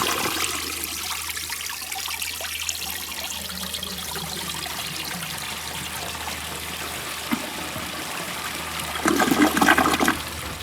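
A 1980 Eljer Emblem toilet, with water leaking out, is flushed: a continuous rushing and trickling stream, steady throughout, then a louder gurgling surge toward the end as the bowl drains, no voices present.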